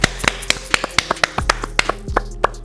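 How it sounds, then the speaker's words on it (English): A small group at home gives a round of applause, with crisp, separate claps in a quick, uneven rhythm that sound close over a low background hum. "Round of applause for Mommy."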